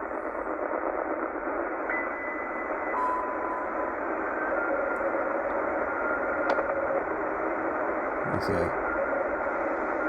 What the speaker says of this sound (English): Sounds like a radio teletype signal there.